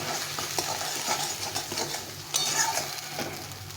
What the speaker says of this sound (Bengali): এটাকে ভালো করে একটু কষিয়ে নিতে হবে